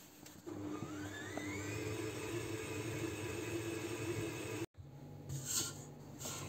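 A stand mixer kneads brioche dough, enriched with softened butter, at speed 3. It gives a steady, close motor whir with a rising whine, drops out for a split second near the end, then resumes.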